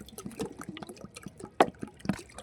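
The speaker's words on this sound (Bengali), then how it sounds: "এই জলটাকে এইবার এই পাত্রের মধ্যে ঢেলে দিতে হবে" Water is poured into a container in short, uneven splashes and trickles, fairly faint and close, with a few sharper plops.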